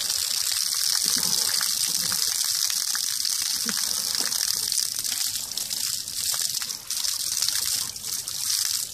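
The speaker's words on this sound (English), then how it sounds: "he is having a shower, adding to the mud" Water from a garden hose sprays over a bear in muddy ground, a steady, close gushing hiss with spattering and trickling that runs continuously and alone.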